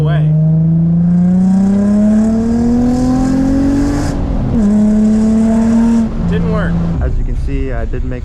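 A $2,500 daily-driven project car with a check engine light is revved hard on the move, its engine note climbing steadily, dipping briefly between pulls, then rising again, loud and close throughout.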